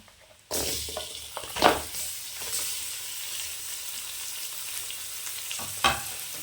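Mutton pieces tossed into a hot pan with turmeric and curry masala, giving a burst of sizzling frying noise followed by steady crackle and a couple of sharper stirring clatters.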